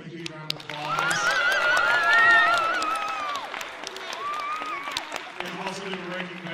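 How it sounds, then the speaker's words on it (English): Theater audience applauding and cheering for the tech team in the booth during a Shakespeare monologue and scene contest, with a broad swell of clapping that builds, peaks midway and then tapers, and whistle-like cheers riding on top. "Can we give them a huge round of applause?"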